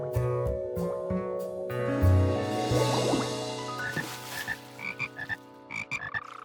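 Cartoon frogs croak in a bathtub, with a run of deep croaks that gives way to short, bubbly, dripping calls and watery squishes near the end.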